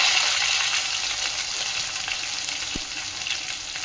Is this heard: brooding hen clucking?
no